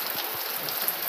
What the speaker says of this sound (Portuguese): E agora a chuva dá uma aumentada até boa.